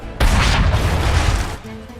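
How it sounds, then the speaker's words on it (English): A cannon firing in Assassin's Creed III Remastered, heard as one heavy, loud boom that rumbles for over a second before dying down, followed by a faint lingering tone. "there's probably a cannon nearby you can use"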